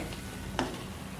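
Spiced matar paneer masala with green peas, paneer, turmeric and red chilli, a splash of water added, sizzling softly in a pan as one quick stir scrapes through it.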